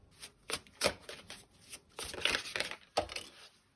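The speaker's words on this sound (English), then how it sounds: "As I was just shuffling there, this card just fell out." Cards riffle and slap together in quick irregular bursts, close up and crisp, with brief pauses between shuffles.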